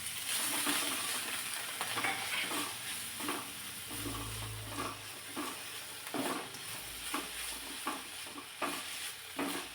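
Finely chopped cauliflower and green peas sautéing in a pan: a steady close sizzle fills the clip while a spoon scrapes and stirs in regular strokes, with a few low thumps along the way and no voices.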